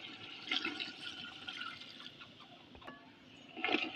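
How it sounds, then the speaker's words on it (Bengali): Water poured into a pot of browned beef for biryani on the stove, a splashing, bubbling pour with drips and liquid gurgles, fairly quiet and uneven, swelling again near the end. "এবারে সেদ্ধ করতে দেবো জল দিয়ে"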